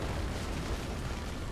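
Dense rumbling explosions as units assault a power plant in a Red Alert 2 match, a continuous loud roar of blasts with no break.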